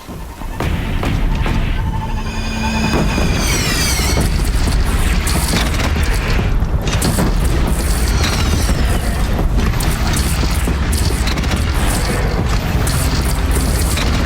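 In Horizon Zero Dawn, a cannon fires amid explosions in a continuous loud barrage of booms and crashing rumble, dense and unbroken, with mechanical clanks and a brief tonal whine early on.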